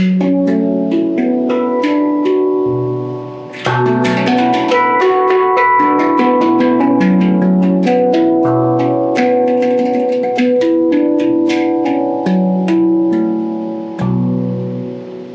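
A handpan played solo with ringing, overlapping metallic tones in a slow, flowing melody, close and clear with long sustaining notes.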